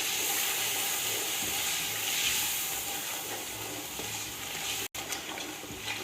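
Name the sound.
masala and onions frying in a pan for chicken biryani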